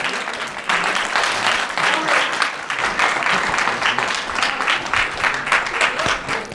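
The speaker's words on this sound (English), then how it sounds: "Could you please give a round of applause to both of our teams?" Audience applause for two debate teams after a student political forum immigration debate, steady dense clapping from a crowd that swells and holds throughout.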